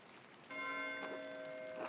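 Church bell tolling in the video game Pentiment, with clear sustained metallic partials ringing out after a soft start and lingering through the clip, with faint extra strikes layered in.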